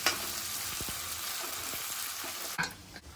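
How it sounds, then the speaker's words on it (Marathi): Masala for dal tadka fries and cooks down in a pan, a close continuous sizzle with a few spoon scrapes and a louder clatter of stirring near the end. "मसाला अगदी छान मऊ शिजवून घ्यायचा, याच्यानेच आपली डाळ चांगली चविष्ट बनते।"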